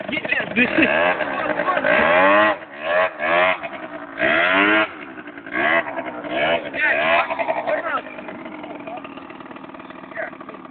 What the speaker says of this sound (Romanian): hai să să faci un burnout